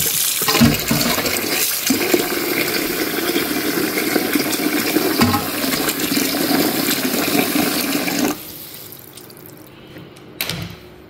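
Cold tap water pours hard into a basin as pork belly is rinsed, a loud steady gush that cuts off near the end, followed by a brief clatter.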